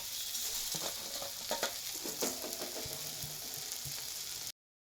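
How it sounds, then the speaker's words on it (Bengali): Roasted moong dal tossed into a hot pan of frying spices, with a steady loud sizzle and scattered scraping clicks of a spoon stirring, cutting to silence near the end. "চলো ভেজে রাখা মুগের ডালগুলো দিয়ে দিই মিশিয়ে।"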